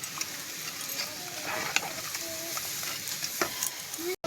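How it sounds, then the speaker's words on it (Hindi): Sliced pointed gourd (potol) frying in hot oil with turmeric, a steady close sizzle broken by scraping stirs of a spatula against the pan, no talking. "ये पोटल भजा करछि"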